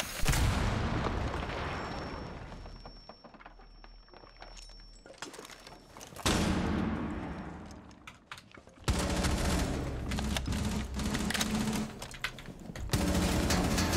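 Rapid bursts of gunfire in the tactical shooter game Rainbow Six Siege, loud and close, with sharp shots and explosive booms that come in dense clusters, briefly drop off and then return.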